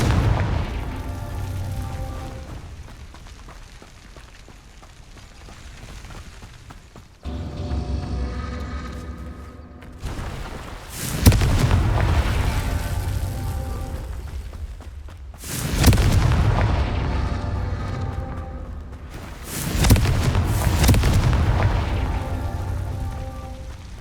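Confringo blasting spell explosions in Hogwarts Legacy: a quieter stretch leads into three or four loud, booming blasts spaced a few seconds apart, each followed by a rumbling tail.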